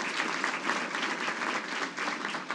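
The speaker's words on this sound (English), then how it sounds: "Give yourselves a round of applause." An audience at the 50th annual employee recognition awards ceremony applauds steadily, with dense, sustained clapping filling the room and no voices on top.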